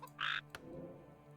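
A frog critter in the WarCraft 3 video game gives a single short croak, a bright burst followed by a faint click, over a low steady game hum.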